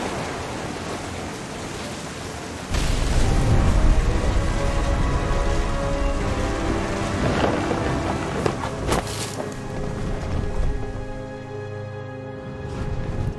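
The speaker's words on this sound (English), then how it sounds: "The thunder sounded much too close and full of angry power" A thunderstorm rolls through the video game What Remains of Edith Finch, a dense roar of rain and rumbling thunder that swells suddenly after a few seconds and stays heavy and close, with layered background sound throughout.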